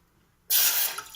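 One tumbler of water is poured abruptly into a pan of jaggery while making ragi banana adai, giving a short, bright splashing gush after a moment of quiet.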